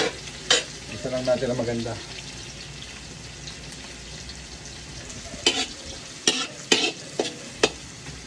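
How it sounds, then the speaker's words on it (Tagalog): Garlic and onions sautéing in a pan for kare-kare, steady close sizzling with spoon stirring and scraping, a few sharp clatters of the utensil against the pan, while someone talks briefly. "Kaganda na ng ating pagkakagisa sa bawang at sibuyas."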